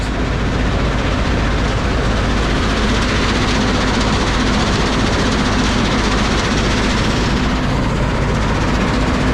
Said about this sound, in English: The crusher's been down for 3 months. It's up now.